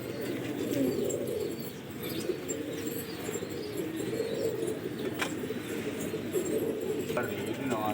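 A flock of pigeons coos in a low, steady murmur, among about 250 birds at a pigeon-flying contest in Lucknow, with faint chirps and wing flaps in the mix and people talking over it.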